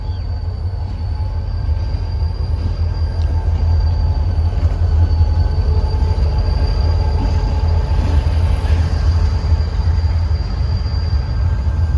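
The Allama Iqbal Express pulls out as a continuous loud rumble of rail wheels and wagons, with faint squealing tones riding over the steady low roar, close by and without talk.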